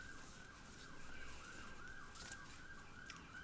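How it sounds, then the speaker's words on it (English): A siren wails faintly in the distance, its pitch rising and falling steadily over quiet background noise. "Sorry about the sirens in the background."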